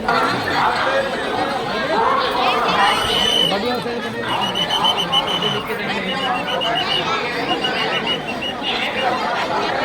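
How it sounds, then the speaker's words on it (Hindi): Huge crowd of pilgrims at a river ghat during the Mahakumbh in Prayagraj, with a dense, continuous babble of many voices and chatter close around, loud throughout. "बहुत भीड़ ज़्यादा भीड़ है इस समय ठीक घाट पर। लाखों लोग होंगे यहाँ पर कम से कम।"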